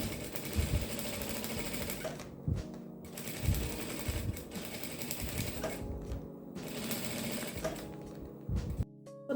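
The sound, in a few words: sewing machine stitching a baby clothes organizer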